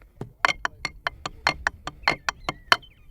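An eighth-note triplet pattern on a drum kit begins on the bass drum, with about a dozen crisp, evenly spaced hits played alone at a steady tempo.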